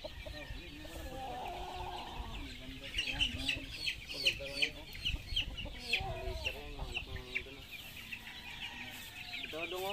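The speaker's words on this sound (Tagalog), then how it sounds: "Yun, maraming sisiw sa likod." Chickens and chicks on a farm cluck and chirp steadily, some calls close and others farther off, with people talking softly underneath.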